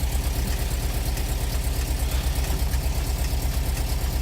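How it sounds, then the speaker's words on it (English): Engine of a 40-year-old campervan running at idle, a steady close rhythmic low throb with fast even pulses and no talk. "You can hear the sound of the engine going"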